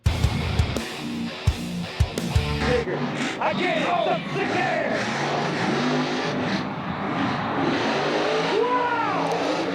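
A monster truck engine at a Monster Jam event fires back up after a crash, a loud close engine roar and revving rising over a noisy arena crowd, with sharp knocks at the start and voices mixed in.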